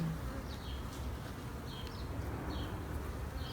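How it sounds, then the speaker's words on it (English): Honey bees buzz around an opened hive, a dense, steady hum close by with individual bees droning past now and then. "Yeah, because there's a lot of bees down there."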